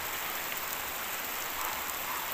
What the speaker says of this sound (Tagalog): sana malakas ang ulan para mabasa talaga yung lupa